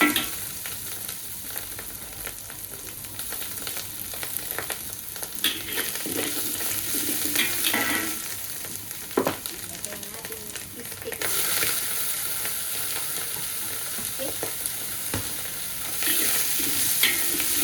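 Onion and dried mushrooms frying in a pan, a continuous bright sizzle with intermittent stirring scrapes and clinks, steady and close with no talk.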